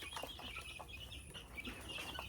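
Soft clucking and chirping from a group of young chickens, close by and continuous with overlapping calls.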